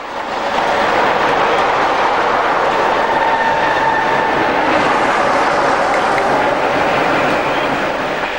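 A Peak class diesel locomotive, Ixion, pulls into Sheffield station on a test run with a class 47 coupled inside, making a loud, steady rumble and rail noise that holds throughout with no voices.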